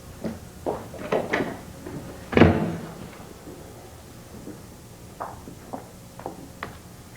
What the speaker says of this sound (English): Heard the door slam.